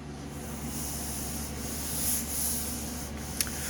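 A sanding disc works old paint and lacquer on a Mini Cooper bonnet, giving a steady, close abrasive rubbing hiss that runs the whole time at even loudness, with no talk over it.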